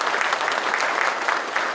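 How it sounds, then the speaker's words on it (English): A crowd applauds the former police chief at a quarterly police awards ceremony, with steady, dense clapping that runs throughout at moderate loudness. "Can we give him a round of applause?"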